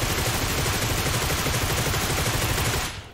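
Rapid, steady automatic gunfire from a DP28 fired while standing in PUBG Mobile, a dense continuous burst of loud shots that cuts off abruptly near the end.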